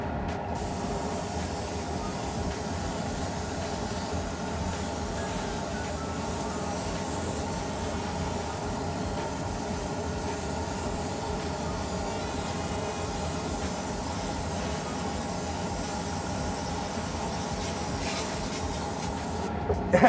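An airbrush sprays unthinned black paint onto an RC car body, a continuous, steady close hiss of air and paint running unbroken for about twenty seconds with no talking.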